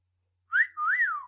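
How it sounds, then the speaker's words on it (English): A person gives a short, clean two-note whistle, a quick rising note followed by a longer swooping one, close and clear with nothing else around it. "Yes, that was a clean whistle."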